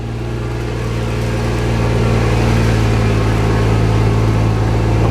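A car creeps slowly over rough, frozen ground, its engine droning steadily and close by with a low, even hum and no voices.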